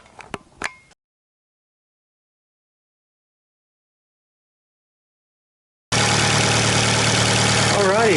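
A short scrape and clunk, then silence, before a 2012 Fiat 500 Abarth engine with an upgraded throttle body catches and settles into a steady, loud, rumbling idle close by.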